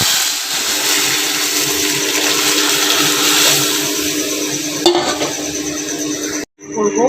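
Boiled masoor lentils tipped into a mustard-seed tempering and stirred for mango dal give a loud, close, continuous wet sizzle and churning hiss, with a brief clatter near the end before a sudden cut.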